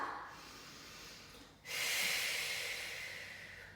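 A person doing a Pilates mat exercise takes a breath: a soft, close inhale, then a stronger, airy exhale that fades slowly, alone and quiet.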